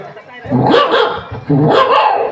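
A dog barks twice, loud and close, the two barks roughly a second apart.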